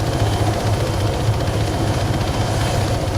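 Helicopter engine in a military video game, a loud continuous rotor thump and turbine drone with steady rhythmic pulsing, close and unbroken.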